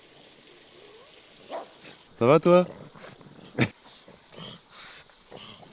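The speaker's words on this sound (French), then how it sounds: "Oh le chien de garde." A farm guard dog lets out a couple of short, loud barks partway through, with a person speaking briefly and quieter rustling around it.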